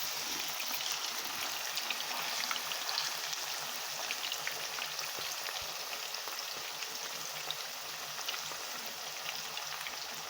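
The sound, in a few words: beef browning in a pot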